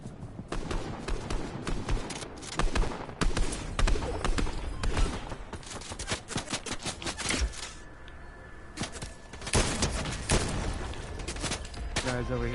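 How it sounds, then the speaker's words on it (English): Repeated video game gunfire crackles in quick, uneven volleys of sharp shots and thuds, close and fairly loud, with a voice talking over parts of it. "Oh, we're getting shot at."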